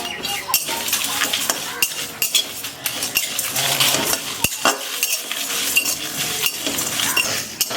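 Black peppercorns and dried red chillies fry in a pan for a jujube pickle, with a spoon scraping and clinking against the metal in irregular bursts over a light sizzle.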